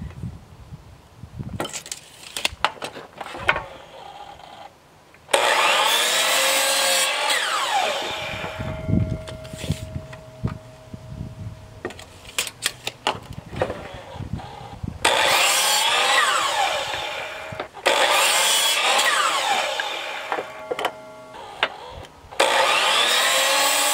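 A power saw cutting a wooden deck spindle into short pieces, loud whining bursts of blade noise with pauses and clunks of handling between cuts, no voices.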